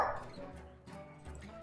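Dogs bark and yip in the Hearthstone card game, several short, quiet barks in quick succession.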